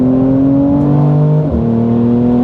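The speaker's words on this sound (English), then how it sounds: "Immediately you can just hear that roar. The exhaust opens up," A Mercedes C43 AMG in Sport Plus mode gives a deep, steady exhaust drone from close by, its pitch rising slightly as the car accelerates, with a brief dip and shift midway through.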